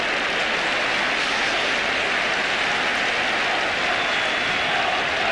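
A roused football crowd at a Division match between Watford and Brighton in 1982/83 sends up a dense, steady wall of cheering and noise that is loud and unbroken throughout.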